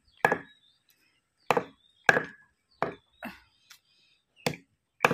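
Meat being chopped with a knife at home: seven sharp, separate chops spaced about half a second to a second apart, close and fairly loud, with silence between strikes.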